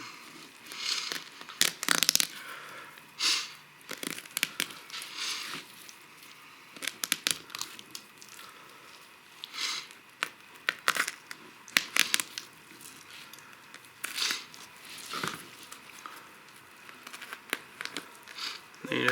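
A fillet knife clicks and crunches over walleye rib bones during filleting, with quiet, irregular bursts of short crackling clicks separated by brief pauses.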